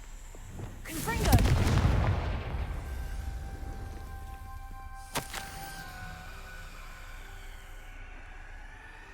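Confringo blasting curse explosions in a Harry Potter video game: a heavy booming blast followed by a second sharp crack, with a lingering ringing tone and a low rumbling tail.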